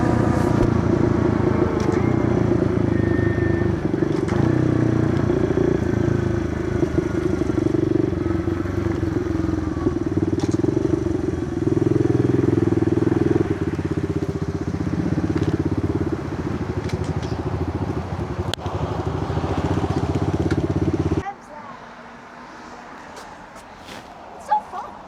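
Small pit bike engines drone steadily on an evening run from Goulds toward the Trans Canada Highway on a cold fall day, with wind rumble throughout before the engine noise drops away near the end.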